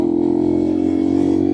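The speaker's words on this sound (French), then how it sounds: "Vous voyez, là je passe les vitesses" A Honda Monkey 125 motorcycle hums steadily while being ridden, its engine note droning evenly with a slight rise toward the end as gears change.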